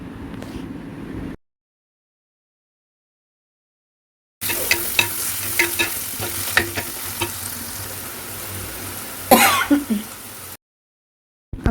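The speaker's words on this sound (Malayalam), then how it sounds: "ഞാൻ തക്കാളിയൊക്കെ ഒന്ന് ഒടിച്ചു കൊടുക്കുന്നുണ്ട്" Tomatoes crushed and stirred in a frying pan of fish gravy, with steady sizzling, scraping spoon strokes and soft clicks, after a brief quiet gap; no talking.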